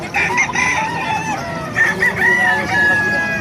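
Gamefowl roosters, including Sinibalang and Lemon Sweater birds about 10 months old, crow repeatedly amid clucking hens, several birds close by calling over one another in a busy, noisy flock.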